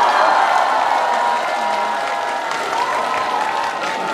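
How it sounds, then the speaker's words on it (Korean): Audience at a festival opening concert applauding, a dense, steady wash of clapping from a large crowd that continues without a break. "여러분들 큰 박수 보내주시면 감사하겠습니다"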